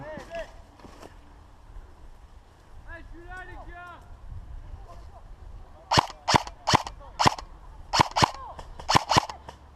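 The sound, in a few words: airsoft guns firing during hostage rescue game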